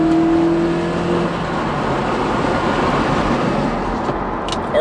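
A 2015 Mazda3 accelerating with the window down, a steady low intake and engine hum with rising harmonic tones at first, then mostly broadband wind and road rush, with no talking.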